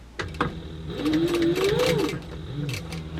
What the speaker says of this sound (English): give myself a little extra room to be able to sew my little square here